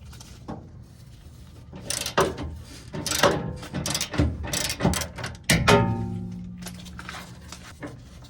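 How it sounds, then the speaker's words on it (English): A hand socket wrench turns a bolt during the install of a tube-style off-road bumper on a 2021 Toyota Tundra. Several short ratcheting clicks and metallic clunks come up close, and a louder burst is followed by a ringing metal tone. "So I'm going to hit it with a socket and wrench."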